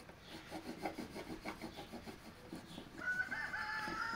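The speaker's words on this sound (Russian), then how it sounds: "зловещий петух проснулся" A rooster crows near the end over soft rhythmic rubbing or scraping sounds, fairly quiet overall.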